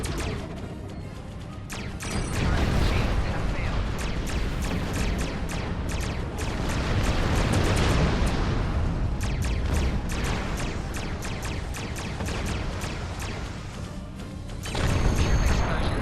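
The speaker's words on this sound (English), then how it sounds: "Ship explosions cause damage." Ship explosions in the Star Trek Online space combat game: booming, crashing blasts overlap in heavy, rumbling bursts, with repeated sharp impacts layered over a loud continuous roar that surges and fades several times.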